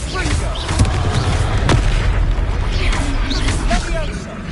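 Confringo fire-blast spell in Hogwarts Legacy erupts in a dense rolling boom of crackling explosive bursts over continuous battle din, loud and sustained throughout.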